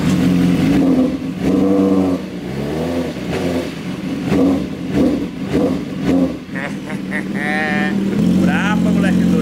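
Motorcycle engine started and revved repeatedly, loud rising and falling bursts of engine roar close by, with voices talking under and between the revs.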